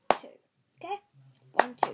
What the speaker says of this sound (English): What you do is clap twice.